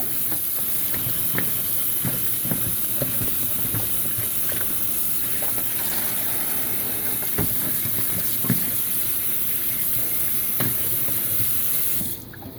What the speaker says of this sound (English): I'm gonna wash the dry bone and the dry fish. This is hot water right now, and then I'm gonna drain it, wash it again.